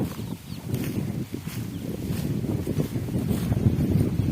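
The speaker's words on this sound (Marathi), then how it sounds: "मस्त हवा सुटली." Steady wind gusting across an open maize field, a continuous rushing roar with loud buffeting on the microphone throughout and no voices.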